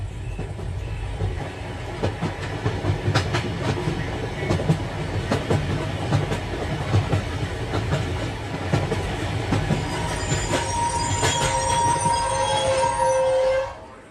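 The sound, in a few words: train departing and running on rails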